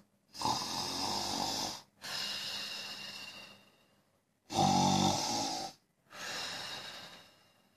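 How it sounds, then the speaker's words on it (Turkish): Four long snoring breaths in slow rhythm, each a raspy drawn-out snore, alternating louder inhales and softer exhales with brief pauses between. "bal peteklerinin arkasından bir horlama sesi geliyordu"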